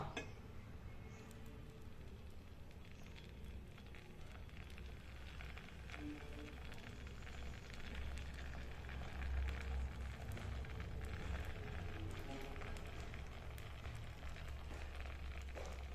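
Paniyaram batter sizzles and crackles steadily in hot oil in a paniyaram pan, a continuous close frying hiss with small popping bursts and no voices.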